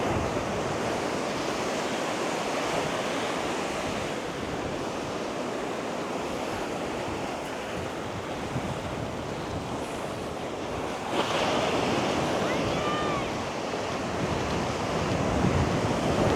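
Surf breaks and rolls onto a shallow beach, its white water pushing over a sandbar in a continuous, loud roar of wash and hiss with wind buffeting the microphone and a brief surge near the end.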